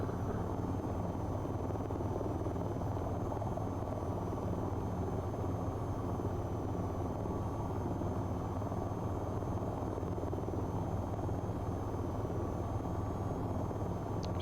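Rotor of an AH-64 helicopter in the video game VTOL VR, a steady, continuous throbbing drone with a faint high whine, unchanging throughout and with no voices.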